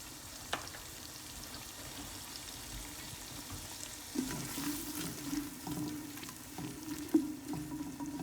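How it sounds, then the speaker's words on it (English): A spoon stirring pepper, salt and a cup of flour into broccoli cheddar cheese soup in a pot, a steady soft scraping swirl over a faint simmering hiss with a few louder clinks. "a teaspoon of pepper, a teaspoon of salt, and a cup of flour all stirred in"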